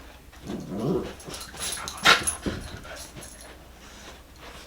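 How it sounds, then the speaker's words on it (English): Dogs scuffle and growl with sharp yips and whimpers, the noise rising and falling in short bursts at moderate distance. "Can you hear me over the dogs fighting?"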